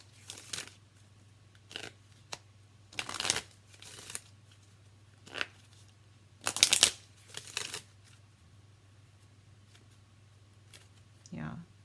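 Tarot cards being shuffled in bursts of quick riffling and flicking, close and crisp, spread across a quiet room over a steady low hum, with brief pauses between handfuls.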